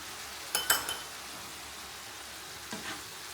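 Sugar scraped from the bottom of a sauce bowl into a pan of sizzling Asian pork noodles, a couple of sharp utensil scrapes and clinks over a steady frying hiss.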